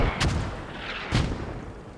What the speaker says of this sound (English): These mortars coming in directly onto ULD, obviously SQD mortars